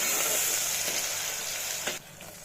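Pounded ginger-garlic paste frying in hot oil for a country chicken curry gives a steady, bright sizzle that fades a little near the end, with a couple of faint stirring scrapes and no talking.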